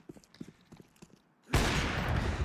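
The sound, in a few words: gunshot through doors in Counter-Strike video game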